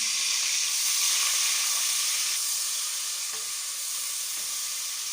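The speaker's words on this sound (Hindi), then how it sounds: "तो ऑयल गर्म हो गया, अब हम इसके अंदर प्याज डाल देते हैं।" Chopped onions fry in hot oil in a home kitchen pan, a loud, close, continuous sizzle with faint stirring scrapes throughout.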